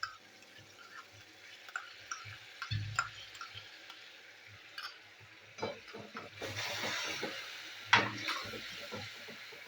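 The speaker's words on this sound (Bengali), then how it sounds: "টমেটো পেস্ট আমি কষাবো এখন।" Spice paste mixed with tomato paste frying in oil, soft sizzling with scattered stirring scrapes and clicks, quiet and close.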